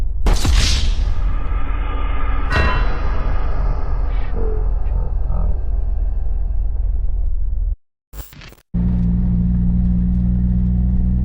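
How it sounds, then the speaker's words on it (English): A 1996 Toyota Chaser JZX100 Tourer V on a road trip, on low-profile tires with a low body kit and a push-type racing clutch. A loud, constant road and engine rumble fills the car, with a few sharp bumps and a brief cutout. "this is what it looks like when you're driving a 96 Chaser on low profile tires, low body kit"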